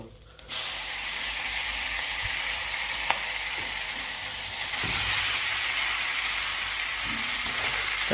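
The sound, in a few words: noodles sizzling in hot oil in a pan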